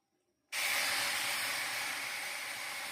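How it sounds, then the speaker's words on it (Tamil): Milk is poured into semolina (rava) in a hot pan, setting off a sudden loud hiss after a brief silence that stays strong and slowly eases over a few seconds. "இப்போ நம்ம எடுத்த ஒரு கப்பு ரவைக்கு 3 கப்பு பால் ஊற்றணும்"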